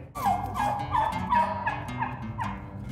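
Turkeys in a poultry barn give repeated, overlapping gobbles, loud and close, over a constant background hum of the flock.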